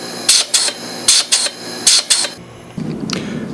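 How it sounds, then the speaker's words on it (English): A mechanical crusher grinding ice inside a sealed vacuum chamber used to release ancient air from ice cores, giving several short, loud rasping bursts followed by a lower, steadier grinding rumble. "The chamber has a mechanical system that can crush the ice."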